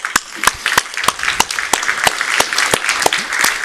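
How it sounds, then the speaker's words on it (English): Audience applause greets Commissioner for Justice Didier Reynders as he is welcomed on stage at a democracy and rule-of-law symposium in Stockholm, with sharp individual claps standing out over a steady wash of clapping. "Give him an applause."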